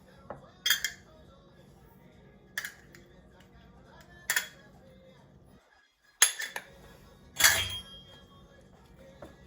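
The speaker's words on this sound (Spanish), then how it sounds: "el limón, los ingredientes secos, los voy a mezclar todos juntos" A spoon clinks against a bowl while lemon juice and dry seasonings are stirred together for guava barbecue baby back ribs. Several separate bursts of scraping and tapping land a second or two apart, close by, over a quiet background.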